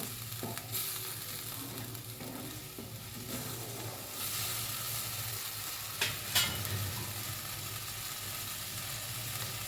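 Masala spices fry in a pan for masala paneer, a soft steady sizzle heard close, with occasional sharp clinks and scrapes as a spoon stirs through them.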